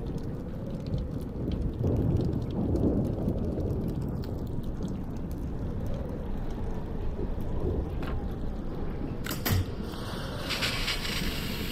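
Steady heavy rain with a low rumbling thunderstorm from the video game Life is Strange, a dense continuous wash of noise throughout with a brief sharper crack near the end.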